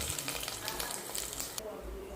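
Ginger garlic paste sizzles steadily in hot oil while frying for a goat head curry, a soft, continuous crackle heard close up.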